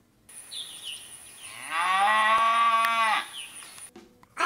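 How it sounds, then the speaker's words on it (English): A single cow gives one long, loud, clear moo lasting about a second and a half, heard alone against a quiet background with faint insect chirping. "Here's what a cow sounds like."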